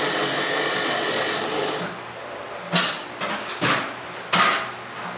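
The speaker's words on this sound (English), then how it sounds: "Run it round on the wire wheel." A wire wheel grinding on a Suzuki GSX-R1000 K1 motorcycle part, a loud steady rasping whir for about two seconds, then quieter clanks and short metallic bursts of handling and brief contact.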